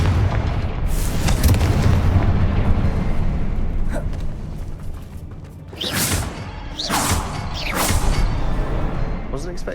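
Explosions from a Confringo blasting spell in Hogwarts Legacy: deep rumbling booms roll under a dense roar, followed by several sharp blasts with whooshing tails. A voice speaks over them.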